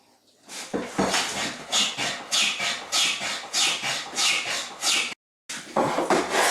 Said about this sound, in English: They'll now need to be cleaned up and planed down to the line.